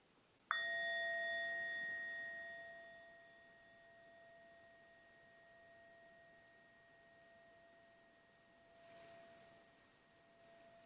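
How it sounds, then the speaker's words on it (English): A meditation bell is struck once and rings with a clear, bright tone that slowly fades over several seconds in a quiet room, with a brief faint rustle near the end. "I'm just going to ring the bell."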